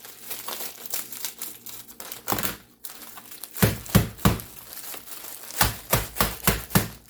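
A bag of frozen mixed vegetables rustles and crinkles loudly up close, then gets a series of sharp, rhythmic thunks as it is knocked against a counter.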